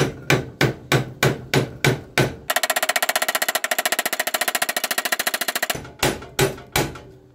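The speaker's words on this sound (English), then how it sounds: "I like to use a softer face hammer" Soft-face hammer driving a bushing into a Case Ingersoll tractor snow blower mule drive: about eight spaced metallic taps, then a rapid run of quick strikes, then a few more single blows, close and clear.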